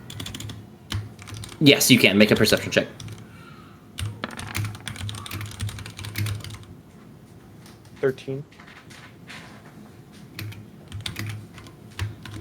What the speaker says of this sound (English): I'm typing answering your question because I just saw it.